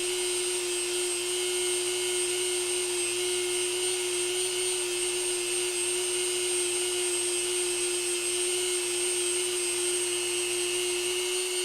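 A Dremel rotary tool runs continuously at close range, a steady high-pitched electric whine with a strong tonal drone and no breaks or speech.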